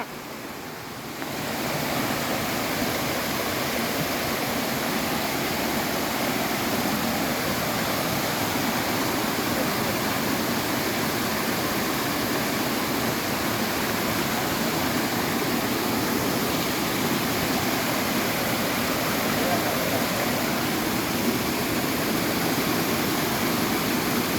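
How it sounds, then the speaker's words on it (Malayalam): Thonippara waterfall roars with a steady, loud, dense rush of water that fills the whole stretch after a quiet first second, with no voices. "ഒരു കിടു വെള്ളച്ചാട്ടത്തിലോട്ടാണ് യാത്ര."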